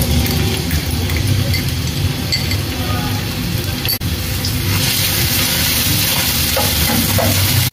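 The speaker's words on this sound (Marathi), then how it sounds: "तेल तापलं का आपण हा ठेचलेला लसूण टाकूया" Crushed garlic, ten to twelve cloves, sizzles in two to three ladles of hot oil for prawn and okra, a loud steady crackle with stirring scrapes, briefly dipping near the midpoint.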